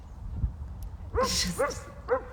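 A dog gives three short, rising yips or barks close by, spaced about half a second apart, over a quiet low hum.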